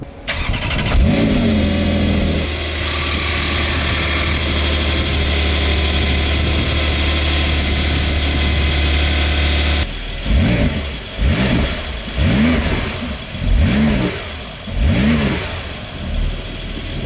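A 992-generation Porsche 911 Turbo S engine idles with a steady drone, then accelerates in repeated revving surges with rising and falling pitch, loud and close from inside the car.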